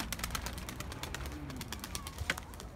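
A pet bird coos and calls in short repeated notes close by, with soft clicks and scattered chirps between them and no talking.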